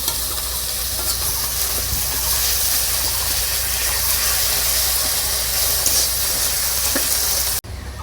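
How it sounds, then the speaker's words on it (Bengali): Onion and green chilli sizzle and hiss steadily in a pan, a dense continuous frying noise with no talk, cutting off abruptly near the end. "তো পেঁয়াজটা আগে দিয়ে দিই, কাঁচা লঙ্কা হালকা করে ভেজে নিব"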